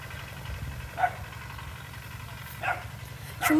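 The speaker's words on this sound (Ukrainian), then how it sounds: "побачила іншу собаку і гавкає" A few scattered dog barks at moderate distance, separated by pauses, over a low engine-like rumble.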